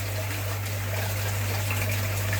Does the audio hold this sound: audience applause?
no